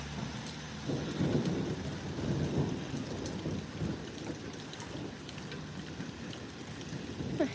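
A live thunderstorm with rain pouring down steadily, deep thunder rumbling and swelling in the first half, then easing into a constant hiss of rainfall with no voices.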